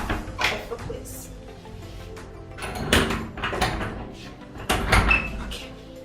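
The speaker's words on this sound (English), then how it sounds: "So we're gonna close this door" An indoor door being pushed shut, with a couple of solid thumps and latch knocks standing out against steady room noise and some faint movement.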